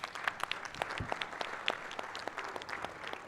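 Applause at a weekly assembly, fairly faint and distant, with scattered sharp individual claps standing out over a thin, steady patter of hands.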